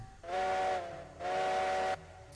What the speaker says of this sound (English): Of course it sounds like the Heisler.